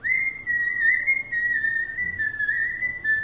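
A person whistles one long, steady, high note that wavers slightly and pauses briefly, close and clear, mimicking an eerie whistle.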